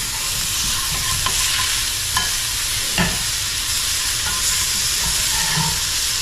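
Sausage fries in an 8-inch cast iron skillet on medium heat, giving a loud, steady, close sizzle with a few soft scrapes and taps of a utensil, and nobody speaking.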